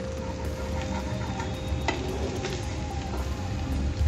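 Spicy chilli onion egg burji frying in a pan at home, a steady low sizzle with occasional scraping stirs and a sharper utensil knock near the middle, no talking.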